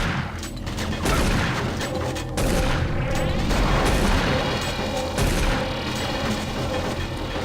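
Rapid gunfire from a weapon in Doom 3 BFG played with a VR mod: a dense, loud, continuous barrage of shots and booming impacts filling the whole stretch with no pauses.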